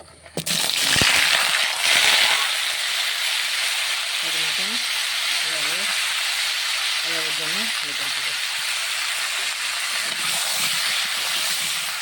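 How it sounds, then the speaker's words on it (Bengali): Sliced pointed gourd dropped into hot oil on a clay stove gives a loud, steady broadband sizzle that holds for the whole stretch, with faint voice-like sounds drifting underneath. "উনানে করে চাপিয়ে দিয়েছি পটল ভাজার জন্য।"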